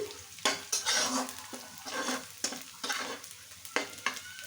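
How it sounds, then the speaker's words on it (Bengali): Mashed cauliflower being stirred and fried in a pan, with a steady sizzle and repeated scraping strokes of the spoon against the pan, close and fairly loud. "মাঝে মাঝে একটু নেড়ে নেব, নাহলে নিচে লেগে যাবে।"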